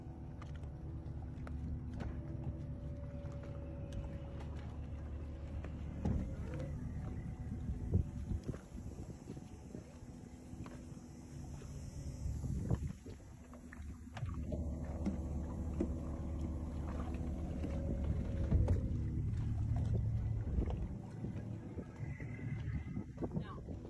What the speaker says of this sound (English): that's how we're going to fly this yacht